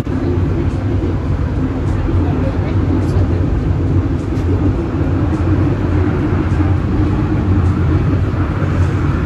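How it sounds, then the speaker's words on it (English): A train runs through a very steep railway tunnel in Penang, Malaysia, a dense, steady low rumble and roar filling the space, with someone talking over it. "Now the train is passing through a tunnel, and what I read up is this is the steepest railway tunnel in the world"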